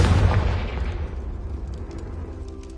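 A Confringo fire spell bursts in Hogwarts Legacy with a loud, booming explosion that rumbles and fades over a couple of seconds.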